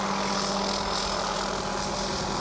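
A police helicopter drones loudly and steadily, a close, continuous engine and rotor roar with no pauses or other sounds standing out.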